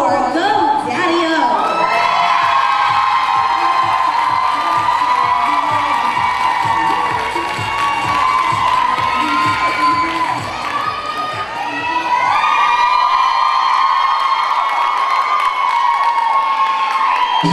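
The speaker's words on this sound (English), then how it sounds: "Let's hear a huge round of applause for our next super live performance." The audience at a KAR dance competition cheers, shouts and whoops loudly and without a break for the next live performance, with young voices prominent in the crowd.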